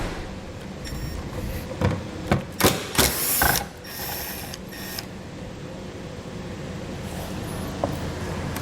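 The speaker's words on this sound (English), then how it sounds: "We'll take a T15 Torx to remove those." Ratcheting clicks from a T15 Torx driver loosening bolts on a 2021 Buick while a towed-vehicle wiring kit is fitted, with a cluster of louder clatter mid-clip and lighter mechanical ticks around it, no talk.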